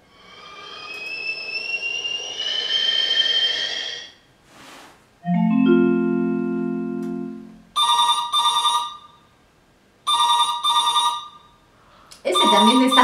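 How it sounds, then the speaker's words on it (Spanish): A household telephone rings in several short bursts of trilling electronic rings with pauses between them, loud and close, after other unrelated tones and sounds. "Es un teléfono."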